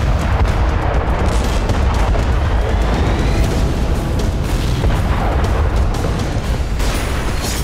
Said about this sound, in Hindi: फिर जोरदार धमाके के साथ रूस के इस हथियार का अंत हो गया।